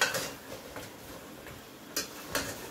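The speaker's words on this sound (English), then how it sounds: "So at this point I'm just stirring to infuse my season." Oxtail being stirred in a pot on a stove during Jamaican oxtail cooking, with faint scattered clinks and scrapes of a utensil against the pot, a few sharper taps standing out, no talking.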